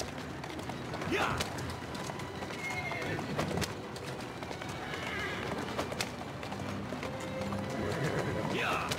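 Horse hooves clip-clop steadily with a couple of neighs and whinnies in Assassin's Creed Syndicate gameplay, set against street ambience and a voice speaking over it.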